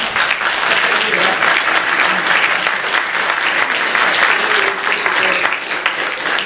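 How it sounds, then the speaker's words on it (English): An audience at an all-candidates meeting in Blyth claps loudly and steadily, a dense continuous wash of applause filling the room from start to finish. "Are you clapping because I want to pick up an offering"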